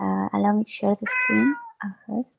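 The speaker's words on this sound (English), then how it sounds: "Also, I apologize for the cat." A cat meows repeatedly during an online research fellowship meeting, several close, tonal cries overlapping with someone speaking.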